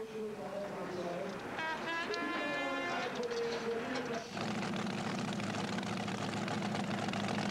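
A turbine-powered tractor pulling machine at the Sottrum 1997 event, a loud steady turbine roar that builds into a dense sustained whine, with an announcer talking over it.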